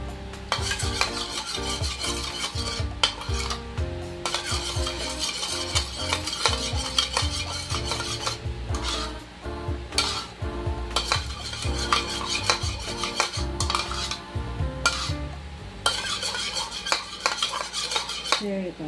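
A utensil scrapes and clanks around a crock pot while barbecue sauce is stirred over slow-cooked ribs, a steady, loud run of metallic stirring with brief pauses.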